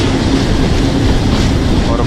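The Rawalpindi to Havelian passenger train runs on rails in the rain near Kot Najibullah station at low speed, a dense, steady rumble and rattle close by, with wind buffeting mixed in.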